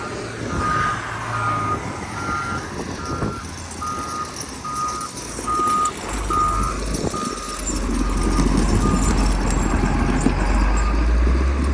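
John Deere tractor backing up a packed snow ramp, a steady reversing beeper repeating over a loud, continuous diesel engine rumble that grows heavier toward the end.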